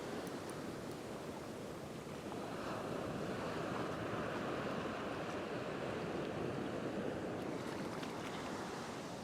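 Ocean surf rolls onto a beach on a rough day while fishing at new moon, a constant broad wash of turbulent waves with some wind noise and no voices.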